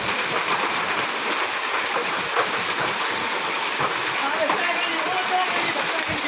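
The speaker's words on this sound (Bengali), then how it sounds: "এই বছর ভালোই বৃষ্টি হচ্ছে, দেখা যাচ্ছে।" Rain mixed with hail falls steadily during a hot spell, a dense even patter with scattered sharper hits throughout, fairly close and unbroken.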